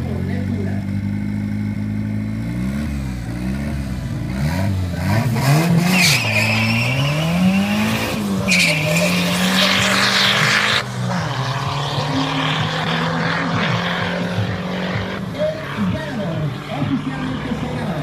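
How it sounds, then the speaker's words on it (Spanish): A VW Beetle R32 and Lentubular launch side by side in a quarter-mile drag race, their engines roaring and wavering in pitch through the gear changes, with tire squeal under a loud, sustained run that eases off toward the end. "Vamos a hacer el arrancón oficial. El reto lanzado por Lentubular."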